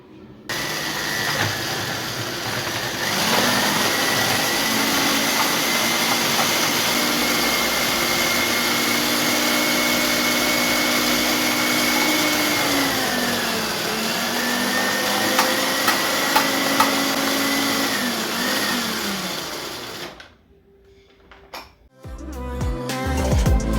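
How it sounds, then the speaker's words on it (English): A food processor chops vegetables for family batch-cooked freezer meals, giving a loud, steady motor whir that runs continuously for about twenty seconds before cutting off abruptly. "we're going to be cutting them, and I'm going to be using how is it called? A food processor"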